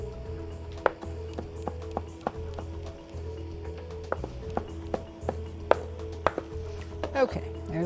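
A knife chops a rolled bundle of fresh sage leaves on a cutting board. Sharp, close taps repeat at a brisk, fairly even pace over a low background hum.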